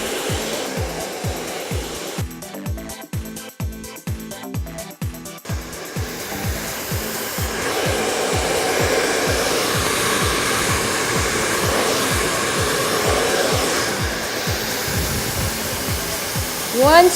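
Hair dryer blasting hair upward from underneath while styling voluminous curls, a loud continuous blowing roar with rhythmic brushing pulses throughout, close to the microphone.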